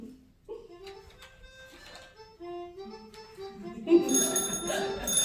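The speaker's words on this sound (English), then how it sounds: "Oh, there's the bell." A bright doorbell rings out near the end of a radio play, following soft background sounds and brief voices, the chime ringing clearly for a moment.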